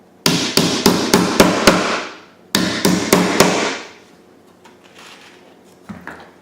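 A hammer drives nails into an EZStudRack stud storage rack for craft room ink pads: two quick bursts of about six loud, evenly spaced blows each, close up, followed by a few quieter knocks.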